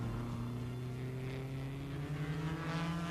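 Formula 1 and 1500cc Cooper Formula 2 race cars from the 1957 German Grand Prix at speed, a steady, fairly faint engine drone with a slightly rising pitch and no voices.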